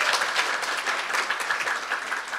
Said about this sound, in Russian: Как сказать, аплодировать, да? Аплодисменты.